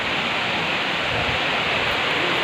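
Dudhdhara waterfall on the Narmada river at Amarkantak pours in a loud, steady, broadband rush of falling water, close by and constant throughout with no voices.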